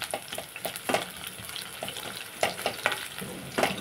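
Garlic fries in a spice-tempering oil with a soft, steady sizzle and scattered crackling pops, heard fairly quietly and close, with no talking.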